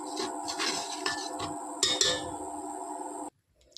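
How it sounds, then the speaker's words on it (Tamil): Rava roasting in a pan is stirred with a metal spoon, a close, continuous scraping and light clinking against the pan with a couple of sharper knocks, before cutting off abruptly near the end. "இதில் இந்த ரவையும் சேர்த்து வறுத்துக்கலாம்."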